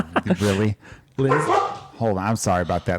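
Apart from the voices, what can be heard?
dog barking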